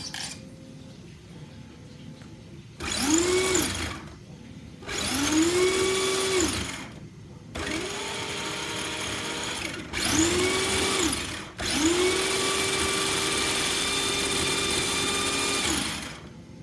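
A Team Associated RC10 Championship Edition RC car's electric motor is bench tested, whining up to speed in five separate bursts of a few seconds each, with quieter pauses between and no talk.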